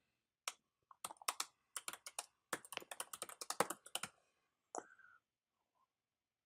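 Close, quiet typing on a computer keyboard, a quick run of key clicks for a few seconds, then a couple of isolated taps before falling silent.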